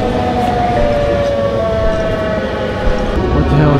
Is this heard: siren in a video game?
yes